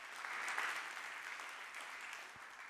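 Audience applause at a LEAP Week 2025 talk, a steady, fairly faint wash of many hands clapping that swells early and then holds, with no voices over it.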